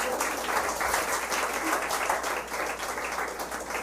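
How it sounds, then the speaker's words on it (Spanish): Church congregation applauding during a sermon, a moderate wash of clapping that fluctuates slightly and tapers near the end. "De un aplauso."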